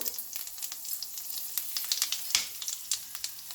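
Cumin seeds, dried red chilies and cloves sizzle and crackle in hot oil, with bright continuous frying hiss and small pops throughout, close and moderately loud, with no talking.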